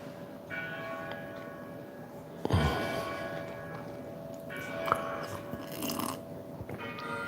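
Church bells ring faintly in the distance with a sustained, resonant tone, joined by occasional nearby crunching and clinking sounds.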